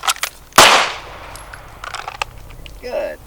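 A single sharp pistol shot, fired after a fast draw at the top of an optic sight, cracks loud and close, followed by fainter clicks, small knocks and a brief voice.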